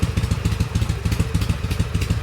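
A 2006 Harley-Davidson 883 R engine idles slightly high, loud and close, with a rapid, regular loping thump and mechanical clatter.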